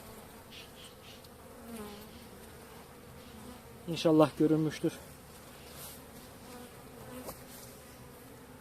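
A steady low buzz of honeybees in a hive hums throughout, with a brief louder burst of speech in the middle and faint talking elsewhere.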